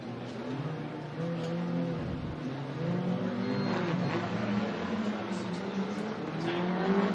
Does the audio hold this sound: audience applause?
no